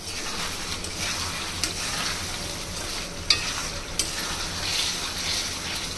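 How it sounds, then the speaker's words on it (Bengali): Fish cooking in spice paste over medium heat for a fish and bean curry, a soft steady sizzle and frying hiss with a few scraping stirs and light clinks of a utensil against the pan, fairly quiet and close. "এখন চুলার তাপটা মিডিয়াম আঁচে রেখে মাছগুলো 5 মিনিটের মতো কষিয়ে নিব।"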